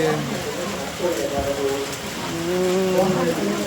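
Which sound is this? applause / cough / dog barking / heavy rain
heavy rain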